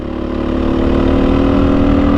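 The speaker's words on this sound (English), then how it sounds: "430 is the way to go, man. It's got such a fun engine character." A Beta 430 dirt bike engine runs steadily at a low, even putt, loud and close with a constant throb and no talking.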